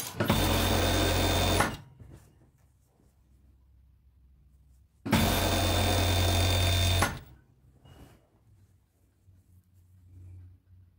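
A sewing machine stitching trousers runs in two loud bursts of about two seconds each, separated by quiet pauses with faint handling noise, and no one speaks.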